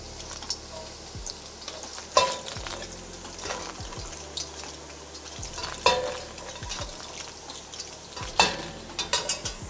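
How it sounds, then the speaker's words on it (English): Mushrooms sizzle steadily in a frying pan, a soft continuous crackle broken by sharp clicks and scrapes of a utensil stirring them, close and moderately loud. "the mushrooms have a nice little sizzle to them"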